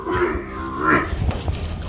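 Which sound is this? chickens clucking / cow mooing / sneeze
cow mooing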